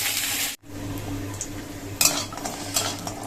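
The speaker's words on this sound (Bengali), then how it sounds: "তো বড়ি কটাও ভেজে নিলাম" Bori lentil dumplings fry in oil left over from frying cauliflower, with a steady close sizzle under spoon scrapes and clinks against the pan, broken by a brief silent gap.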